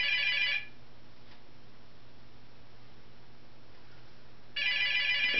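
A telephone rings in two bursts of bright, rapid trilling bell tone, one at the start and another about four seconds later, with near silence between.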